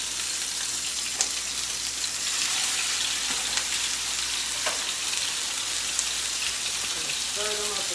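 Two hamburger patties fry in a pan with a steady, bright sizzle and occasional pops, close and continuous throughout.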